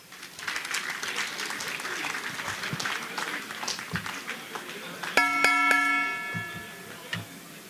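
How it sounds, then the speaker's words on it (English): Audience at a tournament prize-giving ceremony applauds steadily, a dense patter of many hands, joined midway by a bright ringing bell-like tone before the clapping trails off. "Please clap for yourselves."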